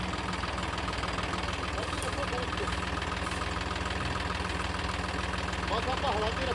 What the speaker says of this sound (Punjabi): ਟਰੈਕਟਰ ਬੈਕ ਲੈ ਕੇ ਜਾਣਗੇ